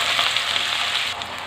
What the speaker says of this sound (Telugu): ఆయిల్ హీట్ ఎక్కిందండి, ఉల్లిపాయ ముక్కలు తాలింపు వేసుకుందాం